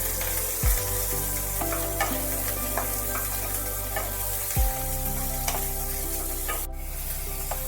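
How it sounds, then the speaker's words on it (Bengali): Diced brinjal fries in oil left over from frying bori, a continuous close sizzle with a few scraping stirs of a spatula against the pan, no voices. "বাকি যে তেলটা রয়েছে ওই তেলের মধ্যে আমি কিছু বেগুন ডুমো ডুমো করে কেটে নিয়েছি, এগুলোকে ভেজে নিতে হবে"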